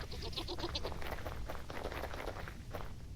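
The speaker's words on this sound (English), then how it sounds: "Goats are doing good." Goats bleat in a video game, short calls repeating over a busy layer of steady farm ambience and movement.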